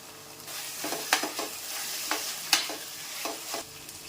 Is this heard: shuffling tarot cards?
no